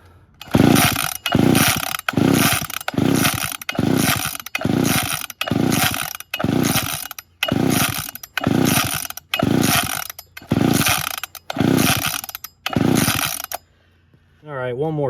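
Repeated pull-starts on an old, free curbside-found chainsaw with the choke on: about a dozen loud, evenly spaced rasping pulls of the recoil cord, each a ratcheting whir, then the pulling stops and the engine never fires.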